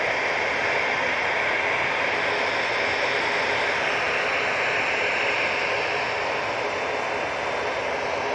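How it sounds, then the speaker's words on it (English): Cessna Citation business jet at Manchester Airport, a loud continuous jet roar with a thin high whine running steadily across the whole span, fading slightly at the end, no voices over it. "As you can tell, it is the Cessna Citation"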